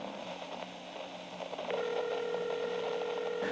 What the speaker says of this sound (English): Shh, it's ringing.